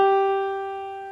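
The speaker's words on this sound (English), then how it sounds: "And that's the G that's found on the second line of the treble clef." A single sustained treble G on the piano, the G on the second line of the treble clef, rings out clearly and alone, slowly fading over about a second.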